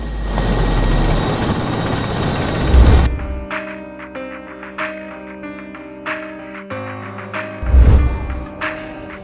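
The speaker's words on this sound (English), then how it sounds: "The Mi-8AMT helicopter, while maneuvering, touched 3 buildings and another helicopter with its blades." A Mi-8AMT helicopter manoeuvring at Bogotany Airport, Krasnoyarsk Krai, Russia, makes a loud, close rotor and engine roar for about three seconds before it cuts off and music takes over.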